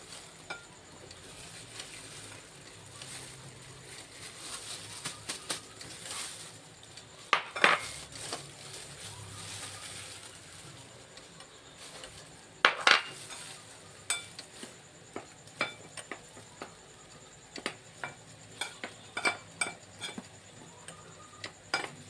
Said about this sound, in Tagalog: Initin po natin ang mantika habang hinahalo po natin ang mga dry ingredients.